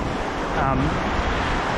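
Very high, fast-flowing river water around a wading angler in knee-deep current, a dense steady rushing roar with wind buffeting, close and loud, with a brief voice fragment.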